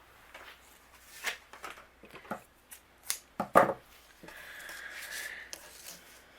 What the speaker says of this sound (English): I'm going to bring in our red and white ribbon, And I want to tie a bow off to the left here